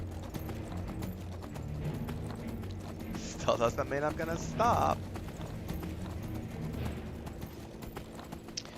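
A horse gallops in Skyrim with steady clip-clop hoofbeats throughout and a brief whinny in the middle, while someone talks over the game audio.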